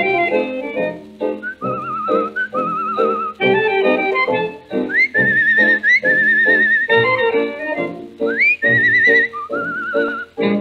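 Melodic whistling carries the tune of a novelty foxtrot, a dance-band record, with sustained whistled phrases rising and sliding over a steady band accompaniment throughout.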